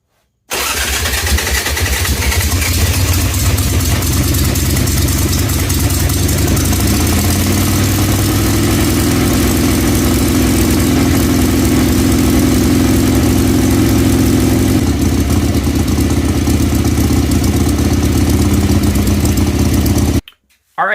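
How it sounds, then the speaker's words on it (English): A Harley-Davidson Ironhead Sportster motorcycle, recently faulty and hard to run, starts and settles into a loud, steady idle with a rough, throbbing beat that runs without pause until it cuts off abruptly. "The bike sat here and ran for probably 2 or 3 minutes"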